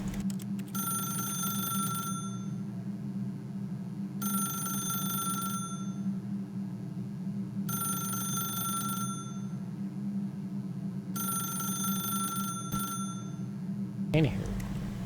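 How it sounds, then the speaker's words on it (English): A telephone in The Stanley Parable rings in four long bursts separated by pauses, loud and clear over a low background hum, followed by a brief thump at the end. "Well, answering the phone's not going to do anything."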